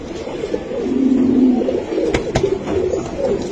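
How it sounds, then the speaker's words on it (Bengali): Pigeons coo at a pigeon farm in Dhaka, Mirpur, low throaty calls repeating close by, with a couple of sharp clicks partway through and no talk. "বিশাল সাইজের কবুতর।"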